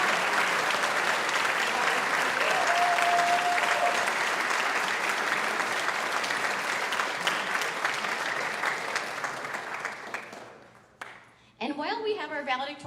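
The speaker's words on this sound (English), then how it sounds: "a big round of applause for our valedictorians" Sustained audience applause at a high school senior awards ceremony honoring valedictorians, loud and steady for about ten seconds, then fading out as a voice starts speaking.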